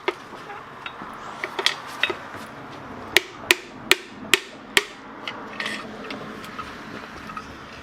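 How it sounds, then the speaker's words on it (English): A hammer tapping on a part of a Ford 351M engine being torn down to the block from a 1979 Ford F250, a series of sharp metallic knocks, several in quick succession, with faint clatter between. "tap on that with that hammer"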